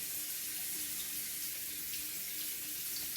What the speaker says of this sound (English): Rinse these beans off.